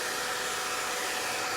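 Hair dryer blowing steadily at close range while short bob-cut hair is dried over a round brush, a continuous even whoosh with no voices.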